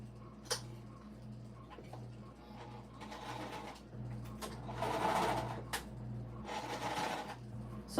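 A home sewing machine stitches the sides and bottom of a stadium bag in several bursts of steady mechanical whirring, with short pauses between runs and a low hum underneath.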